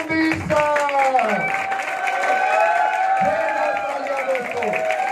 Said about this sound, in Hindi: दोस्तों तालियां आपकी बजती रहनी चाहिए